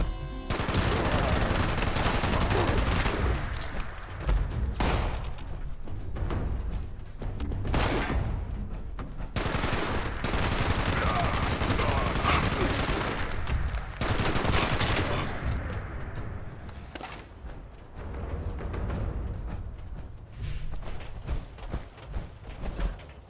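A super mutant fires at the player in a video game, loud rapid machine-gun bursts rattling in long volleys separated by short pauses, close and dominant with no talking.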